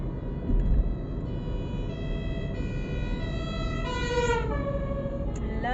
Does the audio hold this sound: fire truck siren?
yes